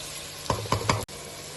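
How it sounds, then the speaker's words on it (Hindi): Small, hot green chillies, slit down the centre, fry in a pan for a mixed vegetable dish. There is a steady close sizzle with a few stirring scrapes, then it cuts off abruptly. "तो मैंने सेंटर से काट के इसको अच्छी तरह भून लेते हैं"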